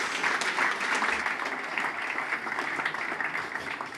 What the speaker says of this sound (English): please warm up your hands and give a round of applause to introduce Martin